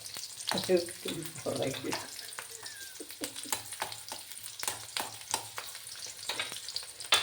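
Garlic sautéing in a hot pan while making green pineapple pickle, a steady sizzle punctuated by repeated scraping stir strokes, close and moderately loud with no talk.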